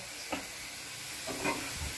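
Sotanghon guisado with Baguio beans and sayote sizzles and hisses in a hot pan, with a couple of stirring scrapes over a steady frying sizzle, close and with no talk.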